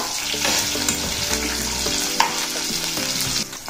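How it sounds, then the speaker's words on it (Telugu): Chopped onion and curry leaves fry in a pan with a continuous, close sizzle, overlaid by scraping stir strokes and an occasional small clink, fairly loud and steady with no one talking. "అందులో కొంచెం కరివేపాకు వేసుకోవాలి. వీటిని దోరగా వేగనిద్దాం."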